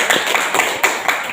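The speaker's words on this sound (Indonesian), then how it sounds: "Mari kita tepuk tangan dulu untuk sekolah ini." Audience at a school teacher dissemination event in Kupang claps together, a steady patter of many hands filling the short stretch, fairly near and continuous with no talk over it.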